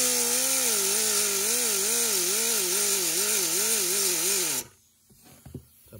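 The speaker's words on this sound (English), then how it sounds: "If I can cut a groove in there and get a flathead screwdriver." A rotary tool cutting a groove into the rear hatch switch of a 2013 Kia Rio, a loud, steady high-pitched whine with a wavering pitch, which cuts off abruptly near the end.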